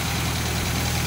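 A rebuilt 1800 engine in a 1960 MGA speedster idling, a steady low continuous rumble with an even, unbroken tone, close and fairly loud with no voices.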